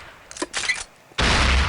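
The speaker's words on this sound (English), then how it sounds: "If the grenades hit the mob, they'll explode automatically" Grenades exploding in the video game Postal 2: a couple of short bursts, then a sudden loud, sustained blast that fills the end.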